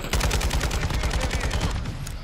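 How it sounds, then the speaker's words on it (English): A rapid automatic gun fires in Call of Duty: Modern Warfare II, giving a fast, even string of punchy close shots that runs for about two seconds before trailing off. "The recoil is too crazy though on this gun."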